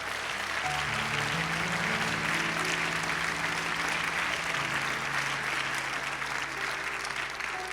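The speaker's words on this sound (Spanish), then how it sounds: "¿Cuántos pueden darle un fuerte aplauso a Cristo?" Church congregation giving Christ a loud round of applause, sustained dense clapping for nearly eight seconds with organ or keyboard chords held underneath.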